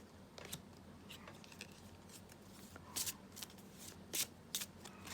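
Tarot and oracle cards of a sturdy, stiff stock being shuffled by hand, a steady papery riffle with several sharper snapping bursts toward the end, close and fairly quiet.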